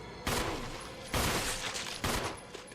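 Headshot gunfire in the video game Resident Evil Remake, three loud sharp shots spaced about a second apart, each with a booming decay that rings on until the next.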